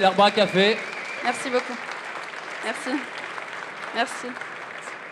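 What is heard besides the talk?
audience applause for barista competition finalist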